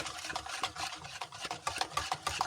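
A spoon swishes and scrapes through pancake batter mixed with vanilla sugar in a bowl, quick rhythmic stirring strokes heard close up.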